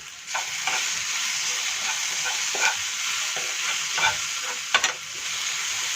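A mushroom filling seasoned with salt sizzles in a pan while being stirred, with repeated scraping strokes and spoon knocks over a steady frying hiss, close and moderately loud.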